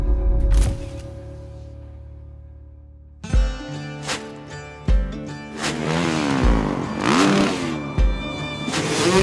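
Indian Chieftain PowerPlus motorcycle engine revving hard up close, with a sharp blip followed by a lull, then a series of punchy throttle stabs that build into a sustained, rising roar with rapid rev swings.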